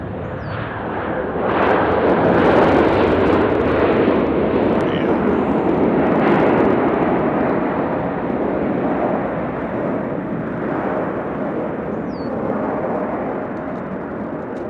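A plane lands on runway 2 Left at Nashville International Airport, a loud, broad roar of jet engines swelling within seconds and holding steady, with wind rush and a voice speaking faintly beneath.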